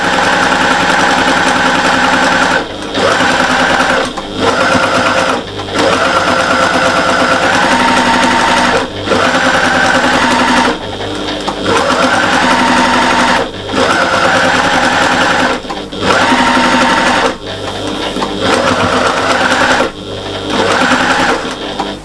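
A sewing machine stitches a patchwork and appliqué cushion, running in long, loud, steady whirring bursts with brief stops between seams, heard close up without talking.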